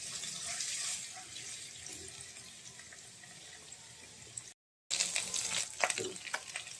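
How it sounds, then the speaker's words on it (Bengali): Minced ginger and garlic fry in a pan until lightly browned, giving a steady, moderate sizzle with brief stirring scrapes; the sound cuts out for a moment, then returns slightly louder. "এখন আদা রসুনটা আমি হালকা লাল করে ভেজে নেব।"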